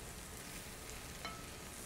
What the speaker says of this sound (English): we can just stir fry everything all together